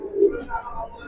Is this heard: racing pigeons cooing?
yes